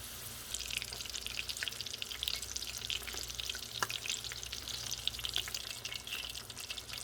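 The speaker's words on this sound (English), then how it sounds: "I'm cooking them till they're a golden brown color on the outside because I want the inside to be cooked" Corned beef hash egg rolls frying in hot oil over medium heat, a steady soft sizzle with scattered crackles and pops, fairly faint and without talk.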